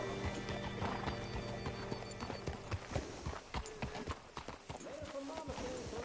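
Horse hooves clip-clop in a steady uneven rhythm with a whinny, set in the Red Dead Redemption 2 video game, close and fairly loud over ambient game sounds and some background speech.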